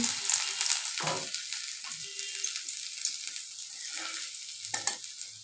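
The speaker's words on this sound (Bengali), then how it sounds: "তেলের মধ্যে আমি সাদা জিরে আর একটা শুকনো লঙ্কা ফোড়ন দিয়ে দিচ্ছি" Cumin seeds, a dried chili and chopped ginger crackling in hot oil for vegetable khichuri, a bright continuous sizzle punctuated by a few spoon scrapes, close up with no talk.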